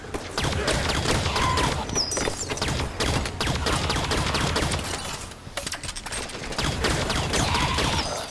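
Sustained video game gunfire, rapid overlapping shots and bursts rattling almost without pause, loud and dense, with a short lull partway through before the firing picks up again.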